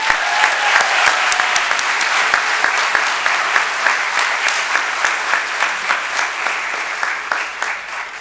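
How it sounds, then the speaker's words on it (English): Steady, loud applause at a university excellence awards ceremony, many hands clapping in an even, continuous patter that stays strong and gradually eases toward the end. "but Adam Neff, let's give him a round of applause."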